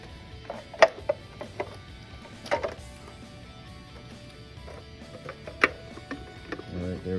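Pieces of a Vex Tipping Point field base are lined up and joined, giving a few scattered sharp snaps and knocks against a quiet background, close by, with softer handling rattles in between.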